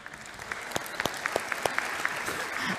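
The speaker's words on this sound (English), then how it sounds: "you just clap for a guy walking." Light, scattered clapping from a small audience, individual claps standing out in an uneven patter for a few seconds.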